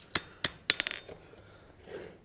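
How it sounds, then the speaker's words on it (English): Small hammer ringing on hot metal while a simple latch is forged, a few sharp bright strikes spaced out, then a quick cluster of lighter taps, a pause with faint background, and one final strike. "we're going to use the small little hammer that I used earlier"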